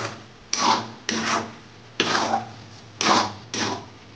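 A spoon scrapes through a thick banana barfi mixture in a pan as milk powder is added, six distinct rasping strokes in an uneven rhythm, close and fairly loud.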